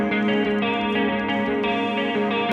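An electric guitar played through distortion and ambient modulation effects rings out in sustained, shimmering strummed chords. The sound is close, loud and unbroken, with no talking.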